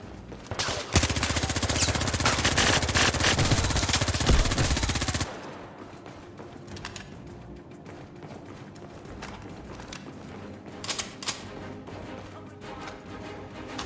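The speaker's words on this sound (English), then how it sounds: "Shredding them up with a Chris Vector" Kriss Vector submachine gun firing in the video game Zero Caliber: a loud, dense, sustained burst of rapid automatic fire for about four seconds, followed by quieter scattered shots and ambient battle noise.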